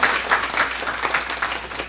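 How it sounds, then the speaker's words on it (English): Steady applause from a business summit audience, many hands clapping continuously at an even level throughout. "Can we give a round of applause for just the organization of this and the return of this business summit?"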